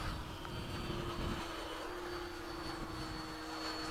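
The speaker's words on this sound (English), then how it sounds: "there's an F-15 flying overhead" Freewing 90mm F-15 RC jet flying overhead during a morning flight, a steady loud turbine-like roar with a high whine, continuous and fairly close for the whole stretch.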